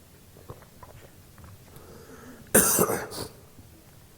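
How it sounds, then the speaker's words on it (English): A quiet room with faint shuffling, then a short burst of harsh coughs close by, followed by a softer throat-clearing cough before it settles again. "I don't want to start coughing"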